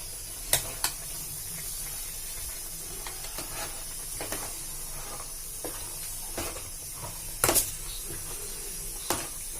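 Pork pasta sizzles steadily in a pan in a northeast-style home kitchen, a constant faint hiss broken by occasional sharp clacks and scrapes of stirring, with no talking.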